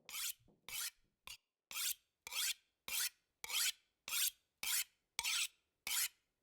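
A tool is sharpened in The Long Dark video game with a steady series of about a dozen rasping strokes, each short and even, evenly spaced and crisp against silence.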